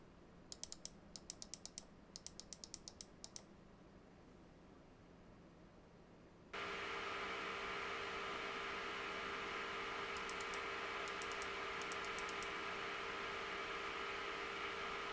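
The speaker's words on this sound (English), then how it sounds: "additional noise when the GPU is under load and fans start to ramp up" A steady broadband graphics card fan whir from a 6800 XT under load rises abruptly partway through and holds loud and constant, with brief bursts of rapid clicking on top, no voices.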